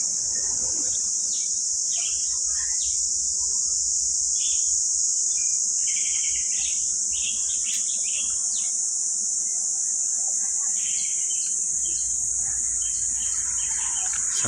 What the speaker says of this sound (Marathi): हा पक्ष्यांचा आवाज कोकणामध्येच बघा सकाळ सकाळ ऐकायला मिळतो.